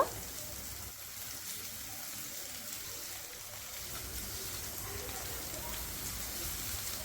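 Sliced medium onions frying in refined oil in a pan over medium flame, giving a steady close crackling sizzle that holds throughout, with no talk.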